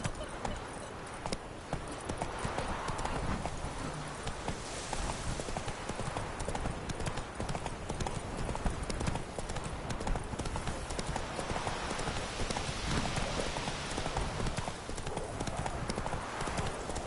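Horse hooves galloping in a PS4 war game, a steady clip-clop running throughout at constant loudness alongside other game sounds.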